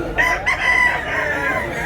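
A rooster crows at a gamefowl sale spot in Tabunok, Talisay, Cebu, one long drawn-out call sounding close and loud.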